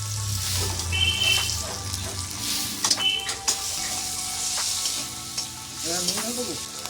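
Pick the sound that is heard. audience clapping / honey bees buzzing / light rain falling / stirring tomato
stirring tomato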